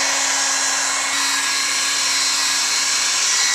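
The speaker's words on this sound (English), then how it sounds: "I'm going to use the heat gun and push that down and just melt those two together." A heat gun blows steadily while melting material, a loud, constant high whoosh with a faint tonal hum beneath it, close by and alone for a few seconds.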